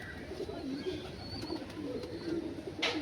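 A Malwai pigeon gives a few low, soft coos close by, spaced through a quiet background with a faint chirp near the end.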